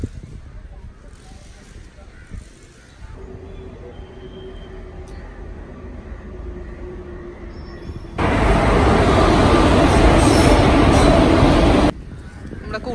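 A train pulls into a Kerala railway station, a low rumble building steadily before a loud, wide roar of rolling wagons surges in for several seconds and then drops away, with people talking nearby throughout.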